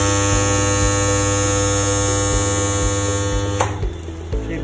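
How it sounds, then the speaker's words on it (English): A strip ring butt welding machine welds a 16 mm diameter bar into a ring, giving a steady loud electrical hum with regular clunks and a brief crackling burst near the end, no voices. "Now we'll show you the welding of 16 mm dia ring"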